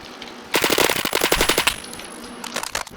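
Rapid automatic gunfire in the Roblox shooter Phantom Forces, a dense burst of close shots lasting over a second, then a pause and a shorter, quieter burst near the end.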